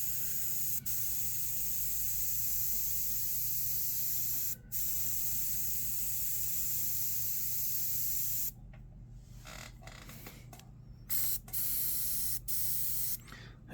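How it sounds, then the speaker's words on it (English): An Iwata airbrush sprays paint in a steady, close hiss, with short pauses early on and choppier on-off bursts in the second half, used for airbrushing a demon skull. "It atomizes beautifully. Then again, what Iwata airbrush doesn't atomize beautifully?"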